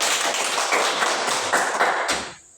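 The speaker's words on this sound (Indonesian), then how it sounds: "tepuk tangan dulu untuk Cicin ya" A group of students applaud a classmate in a classroom, giving a dense, steady burst of hand claps that lasts a couple of seconds before quickly tapering off, with no speech over it.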